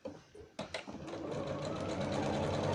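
A sewing machine runs a back stitch up to the top of a seam on a makeup bag, a few short bursts and then a steady close whirring hum of stitching.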